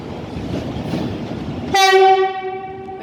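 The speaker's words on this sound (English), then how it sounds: "Piccadilly is class 390 for Avanti West Coast service." An Avanti West Coast class 390 train arriving at Manchester Piccadilly, with a low rumble of the approach before a loud, sustained horn tone sounds up close and fades slightly toward the end.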